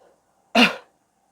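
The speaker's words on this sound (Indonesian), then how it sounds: "aku batuknya parah banget" A single sharp, explosive cough bursts out close by after a faint murmur, then silence follows.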